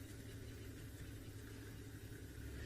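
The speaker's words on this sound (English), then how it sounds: "Now you'll hear some other cars in the background." Safari vehicles on a game drive in South Africa idle in the distance, giving a faint, steady low engine rumble with no voices.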